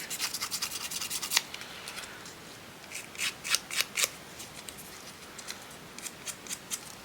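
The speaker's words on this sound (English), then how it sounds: "Scissors are great for just grunging up these edges or distressing the edges." Scissors scrape along paper edges to distress them for handmade embellishments: a quick flurry of close, dry rasping strokes, then a pause and two more separate sets of short scrapes, with no talk.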